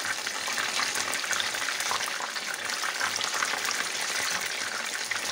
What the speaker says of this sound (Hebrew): וגם בצד הזה אני נותן להם טיגון קל